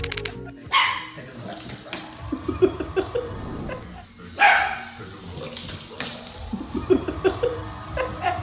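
A small dog barks in several sharp bursts separated by short pauses, close and lively, with some voices and laughter mixed in.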